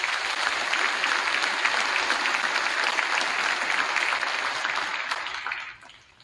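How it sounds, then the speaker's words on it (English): Audience applause at a high school graduation ceremony, a dense burst of steady clapping that holds evenly and then fades out near the end. "Let's give these students a round of applause."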